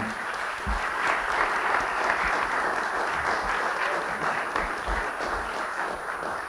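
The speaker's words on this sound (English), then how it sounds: "Round of applause for them." An audience at an Earth Day church service gives a steady round of applause for the parish jazz band, dense clapping filling the room for several seconds without letup.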